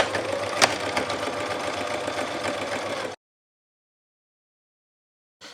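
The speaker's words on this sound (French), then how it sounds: "je vais pouvoir bien être sûr de coudre bien sur les 2 épaisseurs" Electric sewing machine stitching through two layers of fabric on a Moroccan sedari cushion cover, running in a steady close whir for about three seconds before stopping, followed by silence and a brief restart at the end.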